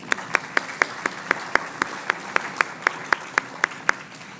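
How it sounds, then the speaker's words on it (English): Sparse applause at a public planning event, where a single pair of hands claps in a steady, regular rhythm of about four claps per second against a quiet room. "So if they're here, we want to give you a round of applause as well."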